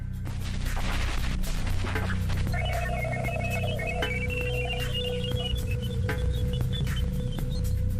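A radio recording of Jupiter's emissions: steady static and low hum beneath wavering electronic tones that rise and fall, with faint sharp crackles scattered through it.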